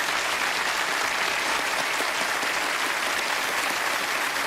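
A game-show studio audience breaks into steady, full applause, a dense wash of clapping that stays even and loud for several seconds with no talking over it.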